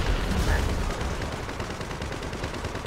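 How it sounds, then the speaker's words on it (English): Video game war combat with tanks: dense, continuous gunfire and explosions rumbling together in a loud, chaotic wash of battle noise, with no clear voices over it. "this is the sound of war"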